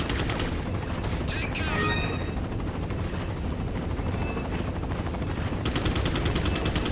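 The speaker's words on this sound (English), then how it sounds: "for some reason, people still shooting" Rapid machine-gun fire in Resident Evil 4 over the steady whirring drone of a helicopter, loud and continuous, with a brief electronic chirp partway through.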